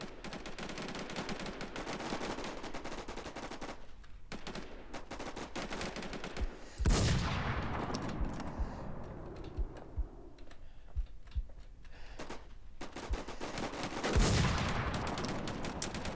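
Suppressed VSS Vintorez rifle fire in the Infestation: World shooter, with bursts of sharp, close shots and rapid clicks, two louder impacts standing out, over a steady game background.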